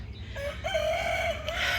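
A rooster crows close by in one long, wavering call among backyard chickens.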